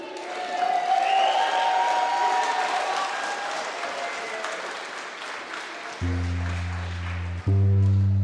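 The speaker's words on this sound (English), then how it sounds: "please round of applause" Audience applause at the Te Anga Paua o Aotearoa 2024 event, a sustained wash of clapping and light cheering that gradually fades before a deep music beat cuts in near the end.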